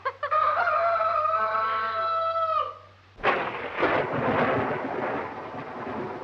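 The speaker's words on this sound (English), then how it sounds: "Storm's just as bad as ever, isn't it?" A loud crash of thunder in a storm around an old dark house breaks in halfway through and rumbles on, following a sustained tonal wail.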